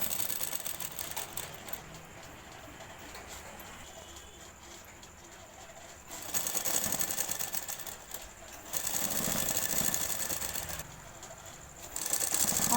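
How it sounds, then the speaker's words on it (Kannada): A sewing machine stitches a blouse lining piece with a steady mechanical whir, running in bursts that start and stop, with quiet gaps between runs. "ಲೈನಿಂಗ್ ಪೀಸ್ ಮೇಲೆ ಕಿನಾರಿ ಸ್ಟಿಚಿಂಗು."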